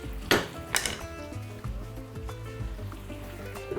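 Metal lid set onto a pan of beef and vegetables on the stove, a couple of sharp clanks followed by lighter rattling and a low simmering background, close and moderately loud.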